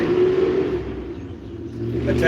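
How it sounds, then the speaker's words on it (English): Passing cars on a road in the rain, a low steady rumble and whir swelling and easing as vehicles go by, loud and close with no talking. "the cars driving by"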